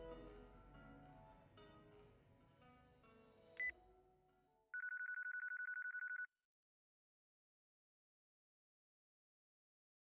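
A phone rings during a call in a Yakuza video game. Game music and ambience come first, then a steady electronic ring tone holds for about one and a half seconds and cuts to silence.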